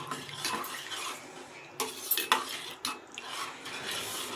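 Vegetable curry of broad beans and potato being mixed in a pot, a spoon scraping and clinking against the metal with wet, sloppy stirring, close and continuous with a few sharper knocks.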